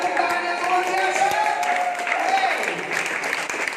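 A room of people at an evening prayer gathering bursts into steady applause, dense clapping mixed with murmuring voices throughout.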